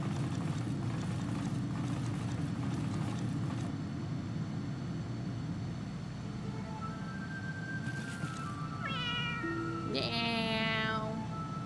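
Cats meowing in Final Fantasy XIV: after a stretch of low steady background hum, a few clear, high, wavering meows arrive close together near the end.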